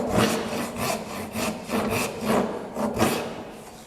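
A hand saw cuts a dovetail into the end grain of a workbench top, starting at the corner on a knife line: close, rhythmic rasping strokes, about seven back-and-forth pulls in quick succession, with no talk.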